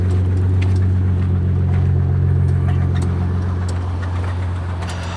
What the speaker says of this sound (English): You hear that squealing and then the rattling? Yeah, that squealing is metal on metal.